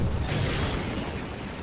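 Rocket blasts in Half-Life 2, a dense, loud burst of explosive rumble and debris crackle that fills the short moment and slowly tails off.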